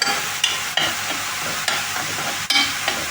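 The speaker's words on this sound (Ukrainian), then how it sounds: "Коли додали муки, треба постійно помішувати, щоб мука не пригоріла." Steady sizzle of onion and flour frying, with scraping stir strokes at irregular intervals, close up and continuous.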